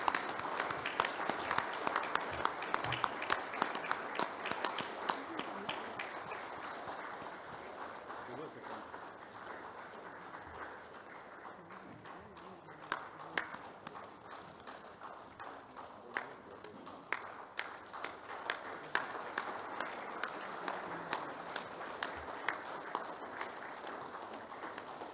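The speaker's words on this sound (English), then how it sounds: "we will have a standing ovation for Dr." A seated audience of delegates rises for a standing ovation after a medical oration, giving sustained, fairly quiet applause with steady patter and scattered louder claps throughout.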